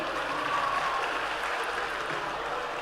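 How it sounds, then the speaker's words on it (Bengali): Steady, dense applause from a large audience at a government services ceremony in Murshidabad, a continuous even wash of clapping at moderate distance with no pauses. "তাই একটু জোরে হাততালি।"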